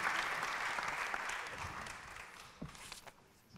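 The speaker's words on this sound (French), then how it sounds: "je vous propose d'applaudir nos trois intervenants" An audience at a European civil society conference applauds its three speakers, the clapping loud at first and thinning out, with a few bumps and footsteps near the end.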